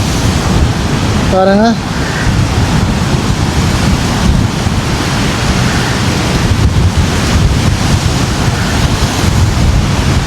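Storm-driven sea waves surge and crash over a coastal wall in Jaffna, a loud continuous roar of surf mixed with heavy wind buffeting, with a brief voice speaking early on.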